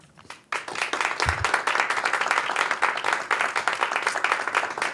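An audience applauds itself at a talk, with brisk clapping bursting in after a brief quiet opening. The clapping holds fairly dense and steady, some individual claps standing out close by.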